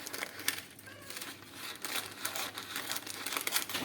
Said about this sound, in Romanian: Voi decupa și hârtia de copt.